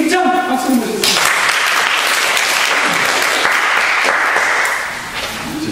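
Loud applause fills a hall at a safety activists' retreat, a dense steady patter of many hands that runs several seconds before tapering off near the end.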